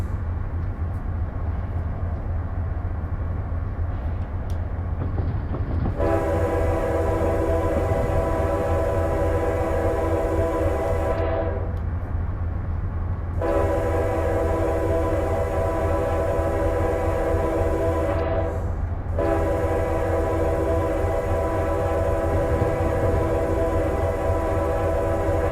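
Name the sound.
freight train with locomotives passing in a train simulator video game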